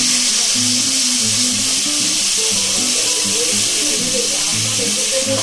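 Washed cauliflower florets hit hot oil with tempered seeds in a pan and sizzle loudly and steadily. A constant hiss runs throughout, with low, uneven bubbling beneath it.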